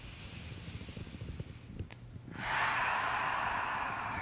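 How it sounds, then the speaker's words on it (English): A long, deep inhaled breath during a muscle relaxation exercise, rising loud and breathy and held steady for nearly two seconds after a quiet pause. "Taking a nice big breath."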